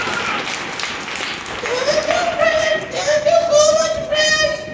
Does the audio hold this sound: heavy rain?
no